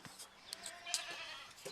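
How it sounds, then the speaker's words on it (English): Goat bleating outdoors, several short wavering bleats and calls over a quiet background, fairly faint and scattered across the moment. "That sounds like a goat. That's a goat."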